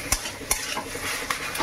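Chicken patty filling being stirred with green chilli sauce and tomato ketchup, a soft wet mixing sound with a few sharp spoon clicks against the bowl, close and alone.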